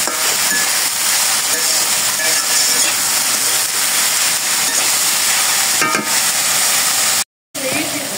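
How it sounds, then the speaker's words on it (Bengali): Paneer chorchori with dried chili powder is stirred in a pan at home, a steady sizzling and scraping hiss that continues throughout, with a brief cutout near the end. "আর একটু শুকনো লঙ্কার গুঁড়া। এভাবে নেড়ে চেড়ে নেব।"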